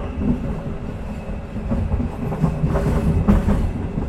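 The Gumarang passenger train crosses the Bengawan Solo railway bridge on the Central Java–East Java border, heard from onboard as a steady rolling rumble with rhythmic wheel clatter building slightly louder toward the end.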